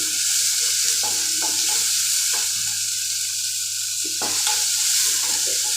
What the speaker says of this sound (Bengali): একটু ভেজে নেবো পেঁয়াজগুলো